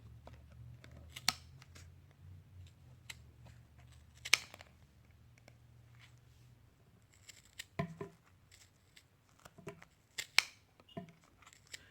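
Scattered sharp snips and clicks of scissors cutting through wound yarn for a pom-pom, several isolated crunches spread over the stretch, quiet and close with faint handling noise between.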